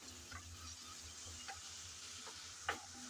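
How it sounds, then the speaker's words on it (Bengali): Ginger and garlic paste frying with onions in a pan, a faint low sizzle with occasional light scrapes and taps of a stirring spoon, quiet and alone. "আদা বাটা রসুন বাটা পেঁয়াজের সাথে নেড়ে চেড়ে সামান্য বেজে নেব"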